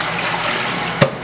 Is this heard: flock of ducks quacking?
no